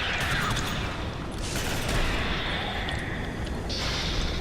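Rapid gunfire from the video game Alien Swarm rattles on without a break, loud and dense, with bursts layered over a constant wash of shooting and explosions.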